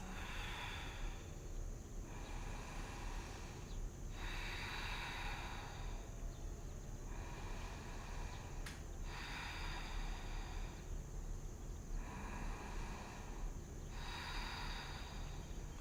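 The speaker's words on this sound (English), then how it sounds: "Taking 3 deep breaths." Slow, deep yoga breaths during a hamstring stretch session, several long even inhales and exhales repeating at a calm steady rhythm, close but soft over a faint constant background hiss.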